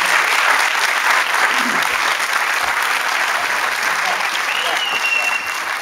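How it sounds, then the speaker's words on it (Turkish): An audience at a live comedy stage show claps loudly and steadily. The dense applause fills the whole stretch and eases slightly at the very end. "Kocaman alkış"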